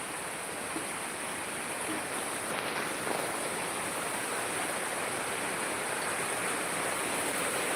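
Heavy coastal rain pours in a dense, unbroken roar, a steady broadband wash that holds even and fairly quiet throughout, with no voices.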